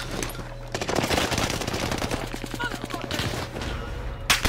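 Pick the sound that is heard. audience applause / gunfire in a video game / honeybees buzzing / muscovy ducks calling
gunfire in a video game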